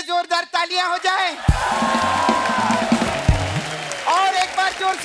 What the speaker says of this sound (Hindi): हमारे गेस्ट के लिए जोरदार तालियां हो जाए